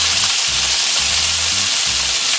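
Chicken wings fry in foaming butter in a pan, a steady dense sizzle and crackle running throughout, loud and close, with a low rhythmic pulsing beneath and no talk.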